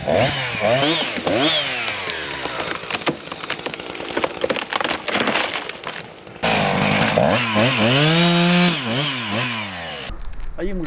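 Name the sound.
chainsaw cutting down dry trees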